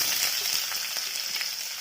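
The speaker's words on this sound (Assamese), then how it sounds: "এতিয়া মই কাটি থোৱা পিঁয়াজখিনি দি দিম।" Chopped onions dropped into hot oil hiss in a loud, steady, close sizzle that fills the whole brief moment without any voices.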